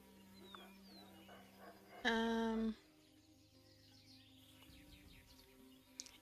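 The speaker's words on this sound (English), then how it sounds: "You start hearing this buzzing over your head." An insect buzzes overhead among strange-looking trees, a loud droning burst rising briefly in the middle over a faint, hissy background of softer buzzing and distant chirps.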